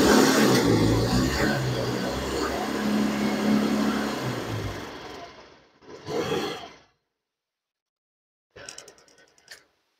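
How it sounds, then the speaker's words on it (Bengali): A Yamaha Fascino 125 hybrid scooter's exhaust roars loud and close for about five seconds, then drops away. A short revving burst follows, then a faint brief blip after a pause. "একটু সাউন্ডটা শুনিয়ে দেবো আপনাদের। Exhaust sound"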